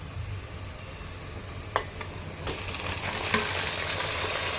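Chicken dropped into a pan of browned fried onions, a steady loud sizzle and crackle throughout with a few sharp pops, no talking.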